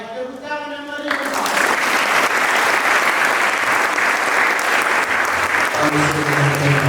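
An audience claps together in loud, sustained applause that fills the room, with a voice speaking briefly at the start and again near the end.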